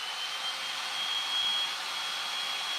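A hair dryer blows steadily on wet paint to dry it, a continuous close whirring hiss at even loudness with no voices.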